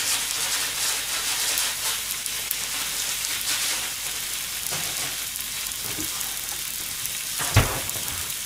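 Hiroshima-style okonomiyaki with cabbage sizzling on a hot griddle, a steady, moderately quiet crackling hiss throughout with one brief louder clatter near the end.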